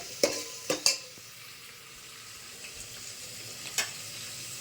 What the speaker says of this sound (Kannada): ಈರುಳ್ಳಿ ಫ್ರೈ ಆಗ್ತಾ ಇದೆ